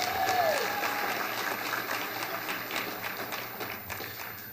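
A crowd at a breakfast event applauds steadily for several seconds, a dense patter of clapping that slowly fades, with faint voices mixed in.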